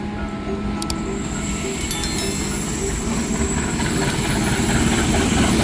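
KA Gajahwong economy train hauled by locomotive 20330 of Depo Induk Madiun arriving at Cirebon Prujakan station on track 9; a loud continuous rumble of rolling wagons with high metallic wheel squeals and brief clanks, no talk.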